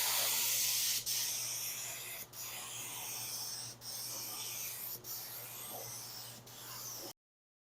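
A thin first tack coat of paint sprayed onto a bumper cover in a messy garage, heard as a steady close hiss broken by brief pauses about once a second, over a low hum.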